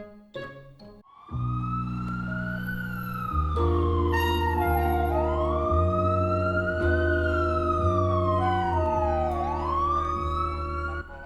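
An ambulance siren sounds as a drama effect from the driver's seat, a loud close wail rising and falling in long sweeps over steady engine tones.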